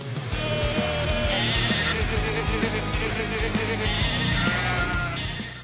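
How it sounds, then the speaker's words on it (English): A goat bleats as the lead vocal on a remix of a heavy metal song, with loud, wavering bleats over dense, pounding guitars and drums. "that remix they did with the goat on vocals"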